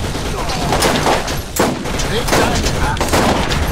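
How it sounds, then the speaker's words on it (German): Rapid revolver fire in the Borderlands video game crackles through a dense, loud mix of game noise, with a voice talking over the shots. "Zeit für meinen Revolver."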